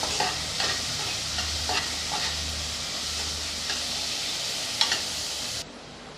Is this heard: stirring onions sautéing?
yes